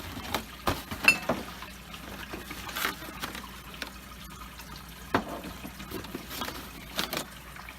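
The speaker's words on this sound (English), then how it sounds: "rinse them with hot water so I'm not putting, hot sap in a cool jar" Hot water splashing and trickling as glass jars are rinsed for bottling maple syrup, with soft intermittent drips and pours and a few sharper clinks, fairly faint and without talk.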